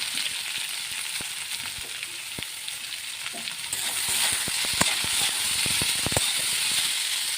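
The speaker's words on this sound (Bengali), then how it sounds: "পেঁয়াজ টমেটো ভালো করে একটু ভাজা হয়ে গেছে।" Chopped onion and tomato fry in a pan with already-fried potatoes for a morala fish curry, giving a loud, steady sizzle broken by sharp clicks of stirring that grow busier toward the end.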